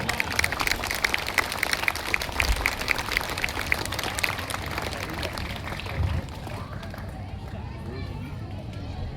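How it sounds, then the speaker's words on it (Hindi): Sharp, closely spaced claps from a school audience at an Independence Day program fill the first stretch, then thin out and fade. A voice talks over the clapping. "एक बार जोरदार तालियां बजा के बताइए कैसा प्रोग्राम हुआ"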